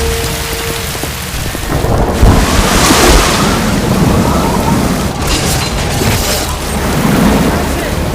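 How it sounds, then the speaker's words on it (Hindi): Fast-flowing, rising water of the Sirsa river, a loud, continuous rushing roar with surging swells, heard up close with no talk over it. "पानी का बहाव बहुत तेज है"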